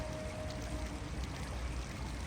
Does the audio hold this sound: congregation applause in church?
no